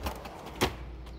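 A specimen drawer in the Manitoba Museum is pulled open, making a brief sliding scrape with one short knock partway through against quiet room tone.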